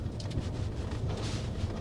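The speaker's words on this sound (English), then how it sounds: "It's really windy." Strong wind of around 70 knots buffets the microphone in a constant, low roaring rumble, gusting unevenly with no other sounds standing out.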